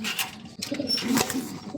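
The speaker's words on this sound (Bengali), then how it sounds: "এই যে এখানে আজকে একজোড়া রাজগোল্লা কবুতর আছে দেখেন, সেম সেমের মাঝে ডিম সহকারে।" Rajgolla pigeons sitting on eggs in a coop give soft, low cooing calls, close by and continuous, mixed with light rustling.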